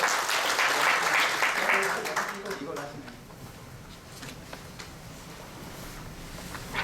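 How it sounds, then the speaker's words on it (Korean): Audience applause welcoming a Jeju Air executive to the stage at an aviation industry presentation, loud broadband clapping for about three seconds that fades into a quieter room, with talk over the end. "큰 박수로 환영해 주시기 바랍니다"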